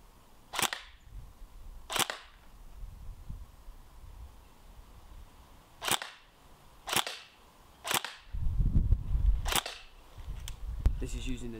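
Airsoft AEG electric gun firing Nuprol 2.5 BBs: a handful of sharp, loud single shots spaced irregularly, close by, with faint background noise between them.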